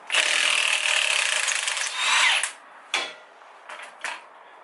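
Removal of the crank pulley bolt on a 1JZ engine in a Nissan 240SX S13 drift build, heard as a loud, steady whirring grind from a power tool lasting about two and a half seconds, followed by several short bursts.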